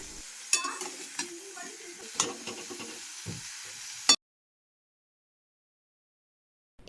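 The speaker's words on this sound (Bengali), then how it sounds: "খুন্তি দিয়ে খুব ভালো করে নাড়াচাড়া করে সমস্ত কিছু মিশিয়ে নেব" Potatoes and ridge gourd frying in a pan while a spatula stirs them, with soft sizzling and irregular scraping knocks for about four seconds before it cuts to silence.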